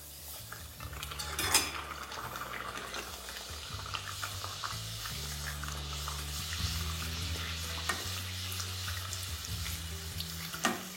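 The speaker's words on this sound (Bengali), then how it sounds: "এবার একদম গোল গোল করে বেলে এটাকে ডাইরেক্টলি আপনারা ফ্রাই করে নিন" Pea-stuffed kachori deep frying in a pan of oil, giving a soft, continuous bubbling sizzle at a fairly quiet level. A low steady hum runs underneath, with a few sharper clinks.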